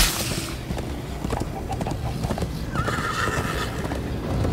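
A horse whinnies and its hooves clip-clop at a steady gallop in Minecraft: Story Mode, with a rushing background bed and a high neigh standing out partway through.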